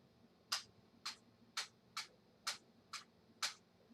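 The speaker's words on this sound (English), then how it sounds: "When you walk, they sound like this." A white folding cane taps while walking in the virtual world Second Life, giving seven crisp, evenly spaced clicks at a steady walking pace over quiet background.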